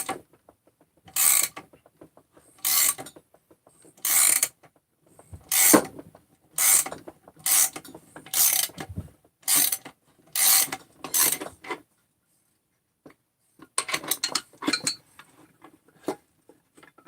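A hand crank ratchets in about ten sharp, evenly spaced bursts of clicking, then pauses before a quicker cluster of ratchet clicks, all close and clear with no talking.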